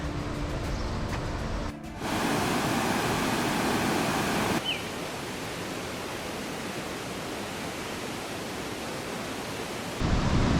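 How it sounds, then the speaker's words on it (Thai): A steady, roaring wash of water falling over a cliff fills the scene, broad and constant like a nearby waterfall at Khao Yai, with no voices. "ตรงนั้นอ่ะ เป็นน้ำไหลลงหน้าผานะฮะ"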